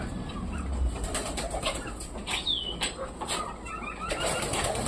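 Racer pigeons feeding on wheat flap their wings and coo close by, with soft wingbeats and scattered calls over a busy, continuous background.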